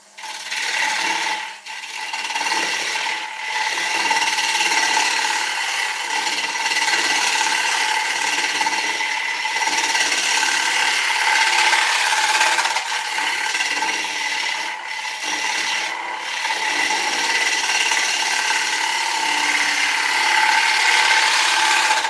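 A willow blank spins on a wood lathe while a tool rubs and scrapes against it, giving a steady, loud rasping drone with a few brief dips throughout, no talking.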